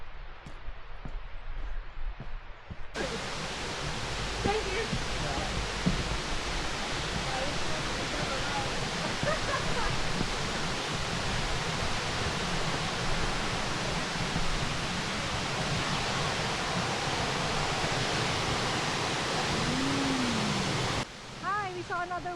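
A waterfall on a hillside walk gives off a steady, loud broadband roar of rushing water that starts abruptly and holds unbroken for most of the stretch, with a voice speaking briefly over it.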